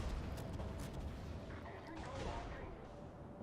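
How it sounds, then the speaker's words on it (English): Naval gunfire in World of Warships as several enemy ships fire salvos, heavy rumbling booms layered over a continuous low roar, with a voice talking over it. "I have 4 ships shooting me right now"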